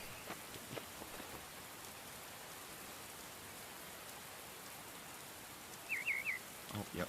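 Rain falls in the video game Myth of Empires as a soft, steady hiss with faint scattered drops, joined near the end by a brief high chirping call.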